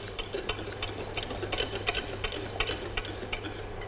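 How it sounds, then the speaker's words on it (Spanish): A whisk stirring thickening cream in a pot as it nears a gentle boil, with quick, rhythmic metallic scrapes and clicks repeating steadily at close range over a low background hum. "darle bien con la varilla sin dejar de remover hasta que empiece a hervir ligeramente"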